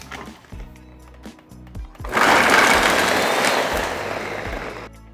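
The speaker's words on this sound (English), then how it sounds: "we're just gonna get that all mixed up in the blender" A blender mixes ice cream ingredients, with a few bumps and knocks before the motor starts and runs loud and steady for about three seconds, then cuts off.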